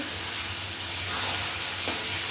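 Chicken sizzles and is stirred with spices in a hot pan for a potato chicken curry, a steady close frying hiss with faint scraping of the stirring.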